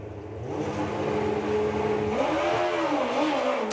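A drag racing motorcycle, a nostalgia bike built like a period road bike with a small rear slick and wheelie bars, launches at Dragstalgia. Its loud engine revs, rising steadily in pitch with no one talking.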